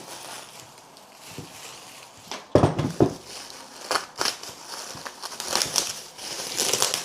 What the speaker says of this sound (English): let's get this unwrapped